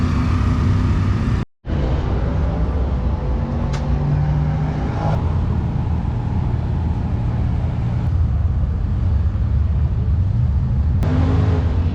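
Big-block engine of a 1970s Mopar car idling at a car show, running rough from dirty high-speed carburetor bleeds, a loud steady rumbling drone with one brief cutout and occasional faint clicks, no talking.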